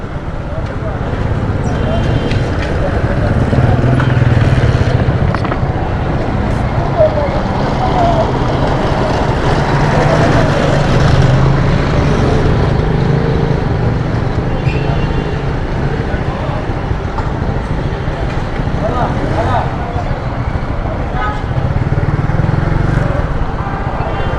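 Motorcycle riding through busy Karachi streets, a continuous engine drone and road roar mixed with surrounding traffic, steady and close throughout, with someone talking over it.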